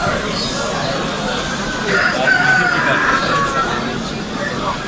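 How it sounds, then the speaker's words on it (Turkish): Hens cluck and a rooster crows in the background of a busy bird market in Bursa, with voices murmuring and birds, including pigeons, calling around them. "Tavuklar da var"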